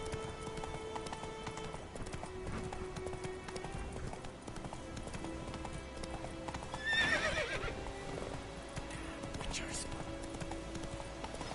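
Roach, a horse in The Witcher video game, clip-clops steadily through a busy, moderately quiet scene and gives a brief whinny partway through. Game voices talk over the hoofbeats.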